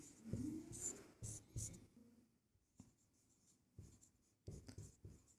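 Pen writing out a class 10 arithmetic progression solution on paper: short scratchy bursts of strokes in quick clusters separated by brief pauses, close and quiet.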